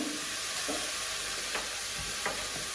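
Pumpkin soup ingredients being stirred in a pot, a soft scraping swirl with a few faint clinks, steady and close over a low background hiss.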